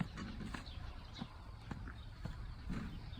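Horses on a farm move around near a hayfield, a steady run of soft hoof clops and shuffles over low outdoor background noise, at moderate distance.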